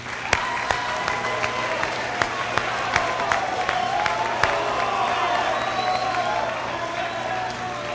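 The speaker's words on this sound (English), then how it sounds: "could we have one more round of applause for all the participants?" An audience at a Missouri Military Academy speaking competition gives a round of applause for the participants, a broad continuous wash of many hands clapping with occasional sharper claps and faint cheering throughout.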